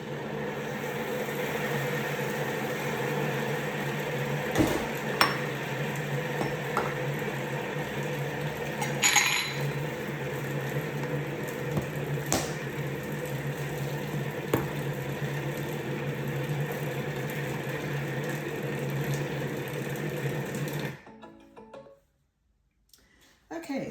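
A kitchen mixer blending a pine nut and currant rissole mixture on speed 4 under a closed lid, a steady mechanical hum with faint clinks, cutting out abruptly near the end.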